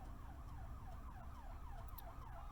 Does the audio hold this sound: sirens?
yes